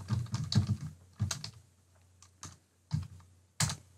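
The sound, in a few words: typing a page name on a computer keyboard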